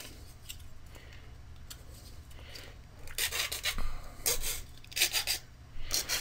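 Rasp file smoothing the edges of a wooden button box bread holder, quiet scattered scrapes at first, then several louder rhythmic rasping strokes in quick bursts, close up with no talk.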